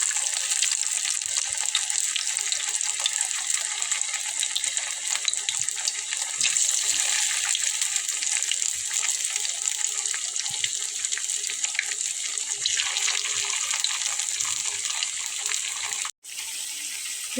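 Crispy raw-potato snacks deep-fry in moderately hot oil over a medium flame, a batch of them together, giving a continuous close bubbling hiss with fine crackles that barely changes and briefly drops out near the end.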